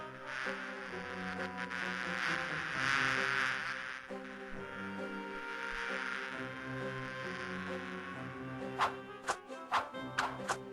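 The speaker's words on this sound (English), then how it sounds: "Just be very careful not to over-antagonize the bees." Bees buzzing in the Discworld 2 video game, a steady droning hum with wavering tones, followed near the end by a run of sharp clicks.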